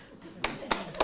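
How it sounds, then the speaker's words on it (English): Three separate bursts of hand clapping from a seated faculty audience in a lecture hall, each a short, sharp crack with quiet gaps between, fairly distant and moderate in volume. "Please stand up and give us a demonstration of how loudly you can clap."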